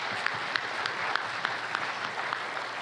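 Audience applause congratulating five startup-pitch finalists at a university event, a steady, moderately loud crowd clapping with a few sharper hand claps standing out at a regular pace.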